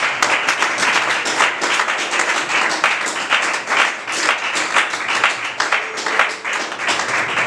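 A church congregation claps and cheers to acclaim the king of glory, a dense, continuous burst of applause with clapping rhythm, loud and close throughout.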